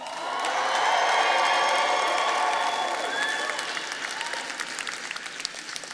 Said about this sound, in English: I want you to cheer right now loud enough for those people to hear you